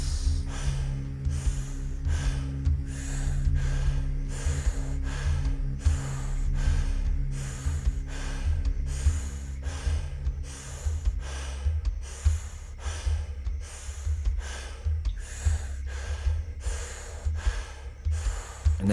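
Deep rhythmic breathing in and out during a guided breathwork session, with repeated loud breath cycles over steady low background music for the whole stretch.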